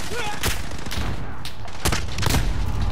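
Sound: sniper rifle gunshot in a video game

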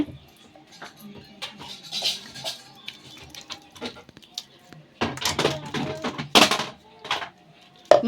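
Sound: stirring masala in a cooking pot

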